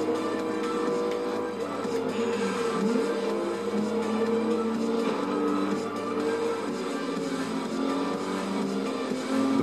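Racing cars roar continuously through a Forza Motorsport 3 race in Bears team colours, steady engine drone with shifting revs and occasional scrapes of cars smashing into each other on the track, loud and up close throughout.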